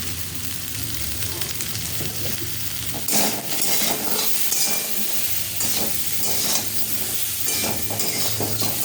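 A spoon stirs a mustard-poppy seed paste seasoned with salt and turmeric in a pan, giving a steady scraping and sizzling texture that runs throughout, with louder scrapes and clinks after the first few seconds.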